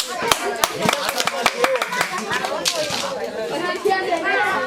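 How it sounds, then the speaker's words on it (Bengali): Villagers clap for a woman who has won a kilo of flour by tossing a ball into a bucket in a village challenge game, with sharp scattered handclaps mixed with lively chatter and children's voices. "ধরেন হাততালি"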